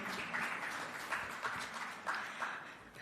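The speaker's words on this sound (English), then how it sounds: "You can clap for that." Audience applause at the official launch of a medicinal cannabis special permit programme, steady moderate clapping from a crowd, somewhat distant, with no talking over it.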